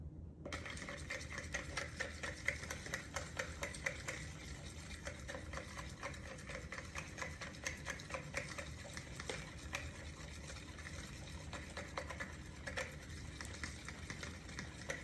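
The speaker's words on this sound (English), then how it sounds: "we're going to slowly whisk in our melted butter" A whisk beats melted butter into blondie batter in a bowl, a soft, fast, steady clicking and swishing that runs continuously and fairly quietly throughout.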